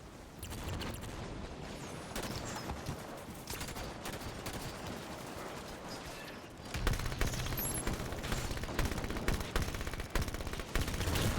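Dense gunfire in Halo 5 during online play, rapid overlapping shots and blasts running continuously and growing louder and busier in the second half.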